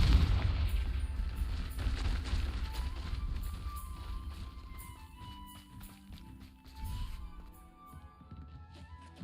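A Confringo blasting spell goes off in Hogwarts Legacy as a loud, booming burst of low rumble at the start, followed by scattered thuds and lingering game sounds that fade over several seconds.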